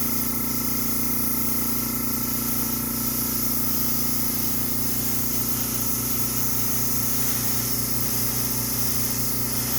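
A steady, continuous hiss of a spray gun applying clear coat at about 20 psi, held 3 to 4 inches back, running without pause, with a constant mechanical hum underneath throughout.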